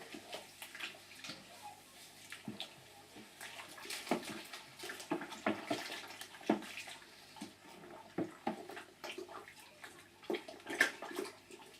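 Thick mash in an all-grain home brew being stirred: faint, wet sloshing and gurgling strokes in an irregular rhythm, fairly quiet and close.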